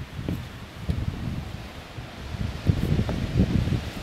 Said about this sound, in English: I'm sorry for the wind, it is very windy out here today